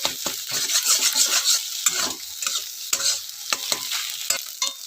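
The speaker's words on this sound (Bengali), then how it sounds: "ডিমটাকে ভালো করে ভুজিয়া করে নেব" Scrambled egg bhujia sizzling in oil while a utensil stirs and scrapes the pan, with brisk repeated scraping strokes over a steady hiss, close and fairly loud, and no voices.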